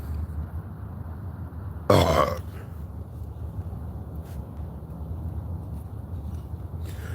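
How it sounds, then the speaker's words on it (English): One short, low burp erupts loudly and close, standing out from a steady hum of room noise with no other speech around it. "I burped"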